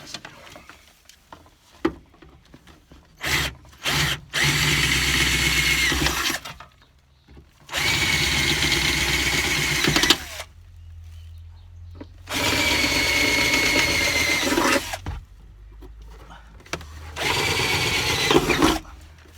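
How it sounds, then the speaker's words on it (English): A power drill whirs in several bursts of a few seconds each, grinding loudly through metal as it drills out self-tapping screws, with pauses and small clicks between runs. "I'll drill out these and put some nut certs in there"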